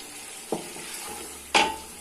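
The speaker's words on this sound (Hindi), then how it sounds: "इसको फिर मैं थोड़ी देर के लिए दोबारा भूनूंगी" Beef yakhni pulao with garam masala and tamarind pulp frying and being stirred in a pot gives a steady soft sizzle, broken by two sharp scrapes or clinks of a spoon against the pan.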